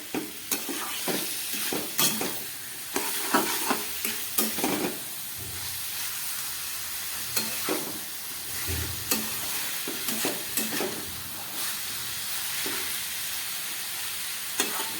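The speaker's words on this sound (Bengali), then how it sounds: "এবার এঁচোড় আর এই মশলাটাকে খুব ভালো করে অনেকক্ষণ ধরে 3-4 মিনিটের মতো আমি কষাবো" Jackfruit being sautéed with spice paste in a pan, a steady close sizzle with repeated scraping stir strokes throughout, no talking.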